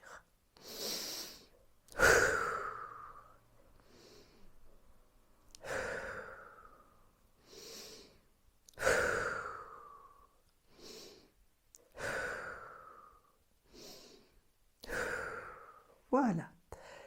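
A person's slow breathing during a sophrology relaxation exercise: a series of audible inhales and long, sighing exhales repeating roughly every two seconds, close and fairly soft, with no speech over them.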